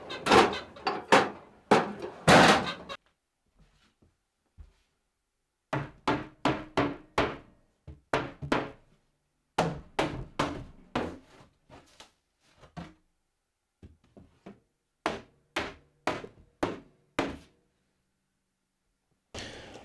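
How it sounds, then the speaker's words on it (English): A mallet knocks apart a glued wooden mobile base: clusters of sharp, hollow wooden thunks in quick bursts of three to six blows, separated by brief silences, close and loud, with no voices. "I have to get a mallet and give it a bit of persuasion."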